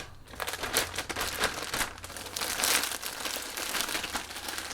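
Packaging from an opened subscription box crinkles and rustles as items are pulled out by hand, in uneven close bursts of crumpling paper or plastic without any voice.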